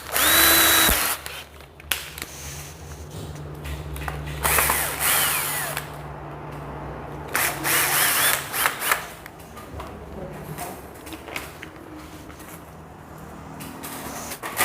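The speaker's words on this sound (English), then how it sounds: "So you just pull out your electric screwdriver and you pull them out." An electric screwdriver backs screws out of an old ceiling light bracket in short whirring and ratcheting bursts, close and fairly loud, with pauses and handling clatter between the runs and no talking.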